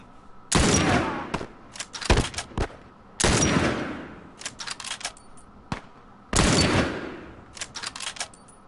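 Gunfire from The Last of Us Remastered, a survival action game: three loud bursts of rapid shots, each followed by a trail of sharper single cracks and clatter, with gaps of quiet between them.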